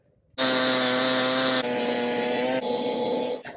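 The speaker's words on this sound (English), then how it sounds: "with this propane auger, it's super easy to drill right through" A propane ice auger drilling through ice roars loudly and steadily with a strong harmonic drone, its pitch shifting slightly partway through before winding down at the end.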